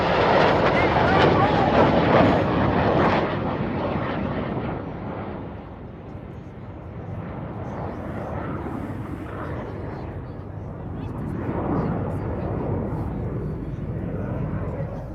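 Red Arrows display jets roar overhead at an airshow, a loud rushing jet noise that peaks early and then eases into a steadier, fainter drone. Commentary runs underneath.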